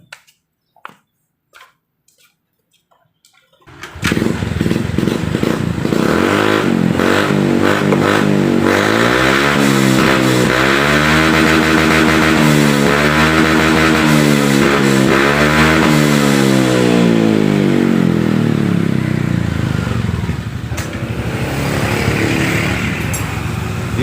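A Honda Vario 150 scooter engine started after a wiring repair: a few faint clicks, then the engine catches and idles loud and close with a rough, rising and falling rev for about twenty seconds.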